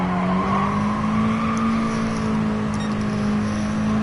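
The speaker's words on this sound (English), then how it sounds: "Can you hear it bouncing off the delimiter? Maxing out the revs." A race car in Gran Turismo Sport bounces off its rev limiter, a loud, steady high-pitched engine whine held flat at maximum revs with a fine stuttering buzz throughout.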